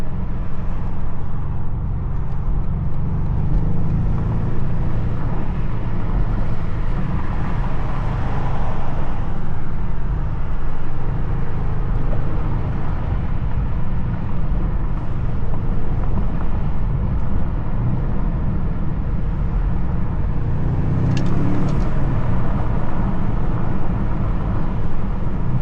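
A BMW M5 G90 driving hard on a winding road, its engine a continuous deep rumble with rising and falling revs and a brief surge near the end, heard from inside the car with no talking.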